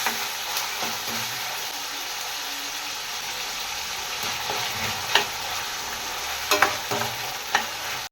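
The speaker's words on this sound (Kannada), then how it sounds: "ಸ್ವಲ್ಪ ಹಸಿ ವಾಸನೆ ಹೋಗೋವರೆಗೂ ಇದನ್ನು ಫ್ರೈ ಮಾಡ್ಕೋಬೇಕು" Onion, mustard seeds and overnight-soaked peas fry in a pan with a steady broadband sizzle, broken by a few sharp crackles and pops near the end; no voices.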